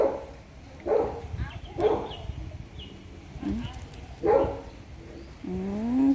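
A small dog barks and yips several times in short bursts, close by on a walk, ending in a whiny howl, with a person talking in between.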